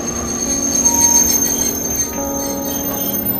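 A train pulls in with its brakes squealing, a sustained high metallic screech over a steady rumble of the cars, loud and continuous.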